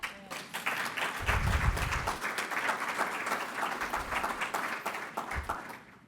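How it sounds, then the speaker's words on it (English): Sustained audience applause at a panel forum, dense clapping from many hands filling the room at steady loudness, with a few faint voices underneath. "Thank you to those who clapped and those who didn't."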